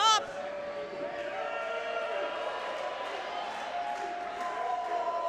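A pro wrestling crowd cheering and roaring continuously at a live indoor show, with a sharp shout at the start and a steady wash of voices throughout.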